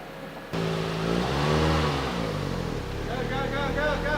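A Toyota GT4 with a boosted all-wheel-drive Japanese-spec setup arrives with its engine running steadily throughout, a loud low drone that swells slightly as it pulls up, with people talking over it.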